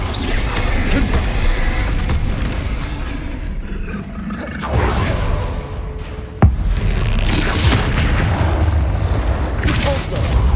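Spell blasts of Confringo cast in the video game Hogwarts Legacy, heavy booming bursts and crashes over continuous rumbling combat noise, with one sharp loud impact partway through.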